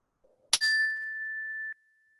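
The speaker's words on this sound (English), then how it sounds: "And I'll just ring the bell once more." A single mindfulness bell is struck once and rings with a bright, clear ding that holds as a steady pure tone for about a second before it cuts off, heard alone in a quiet room.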